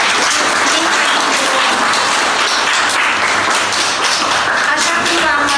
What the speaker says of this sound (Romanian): Haideți să le aplaudăm